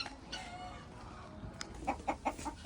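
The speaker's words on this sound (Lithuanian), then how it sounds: "Čia gaidžiai. Čia va gaidys." Roosters and chickens at a seaside holiday spot, a drawn-out crow followed by a run of rhythmic clucks, fairly faint and close, with no talk over them.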